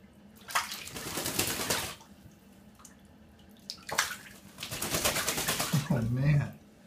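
A pet duck splashes in running shower water, with bursts of spraying water broken by short lulls and a few soft low calls near the end.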